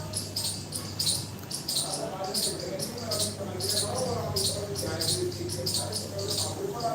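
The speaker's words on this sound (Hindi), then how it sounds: "चिड़िया बहुत बोल रही है," Small birds chirping repeatedly in rapid high bursts outdoors on a rooftop, steady and fairly close, with a constant low hum beneath.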